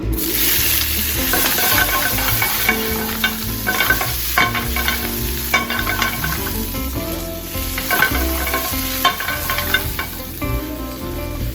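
Bok choy stir-frying in olive oil, a continuous close sizzle with repeated scraping and clanking of utensils stirring in the pan, no voices over it.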